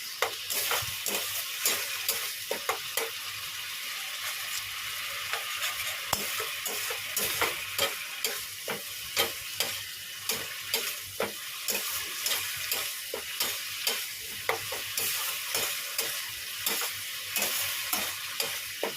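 Spice paste fries in a pan beside a dish of fried snake gourd, with a hissing sizzle and repeated scraping stirs of a spoon pulsing rhythmically, close up and steady with no voices.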